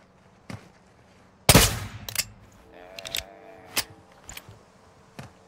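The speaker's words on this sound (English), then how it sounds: "You are taking effective fire." Bursts of gunfire ring out in a military video game, starting with one loud blast and followed by scattered shorter shots and rattles, fairly close and free of speech.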